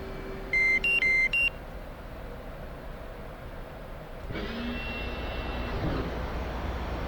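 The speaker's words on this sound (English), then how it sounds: "So let's power down these engines the quick and easy way." Jet engines winding down in the DCS flight simulator, with a few short electronic beeps near the start, then a steady roar that rises and broadens partway through under a constant cockpit hum.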